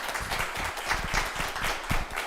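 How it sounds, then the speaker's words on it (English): Scattered clapping from an audience at a school board meeting, a short burst of fairly faint, uneven hand claps with no voices over it. "they definitely deserve all the applause"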